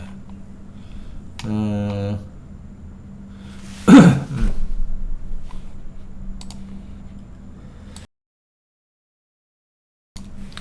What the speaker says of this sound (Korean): 죄송한데 기침이 좀 나가지고요.